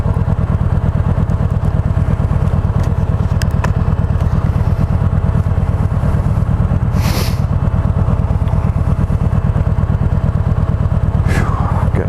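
A motorcycle close to the Kawasaki Vaquero is ridden steadily on an evening ride, its engine giving a constant loud low rumble with wind noise and occasional brief clatters throughout.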